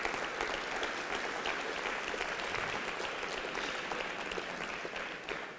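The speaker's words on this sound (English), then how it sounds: "So let's give them all an applause for all their logistics." A keynote audience at a technology showcase in South Dakota applauds, a full steady wash of many hands clapping that holds level for several seconds with no talking.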